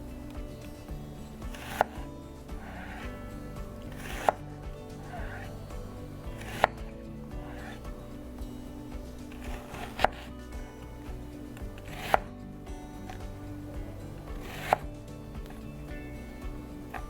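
A knife slices an onion on a cutting board, landing crisp knocks roughly every two seconds over a steady, noisy background hum.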